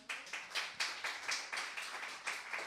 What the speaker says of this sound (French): Rennes et Catherine, on peut l'applaudir.